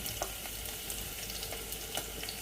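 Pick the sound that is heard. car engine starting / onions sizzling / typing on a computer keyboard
onions sizzling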